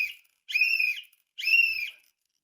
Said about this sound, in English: That's the ice alert whistle.